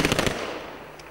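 Rifles fire a celebratory gun salute at a war memorial in Kumzhenskaya Grove near Rostov-on-Don, a rapid burst of several sharp cracks followed by a fading echo.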